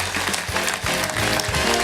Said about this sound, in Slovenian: In vaš aplavz še enkrat za Black Pantherse.